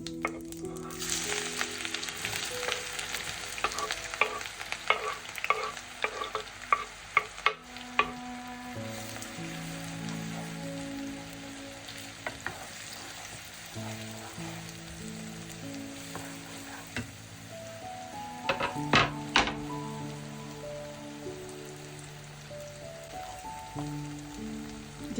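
Onions hiss and crackle in hot oil with cumin, a steady sizzle punctuated by sharp stirring clinks and scrapes of a spoon against the pan, fairly quiet and without talk.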